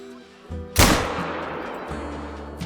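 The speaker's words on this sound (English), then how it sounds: "Now, hopefully that was a good shot." A single loud .243 hunting rifle shot rings out in theHunter: Call of the Wild, a sharp crack followed by a long rolling echo that fades slowly over a steady outdoor ambience.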